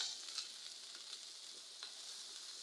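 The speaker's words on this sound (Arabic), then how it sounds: "واشوح كل ده في بعض" Tomatoes and peppers sauté together in a hot pan, giving a steady, fairly quiet hiss of frying with faint crackles and no voices, running evenly throughout.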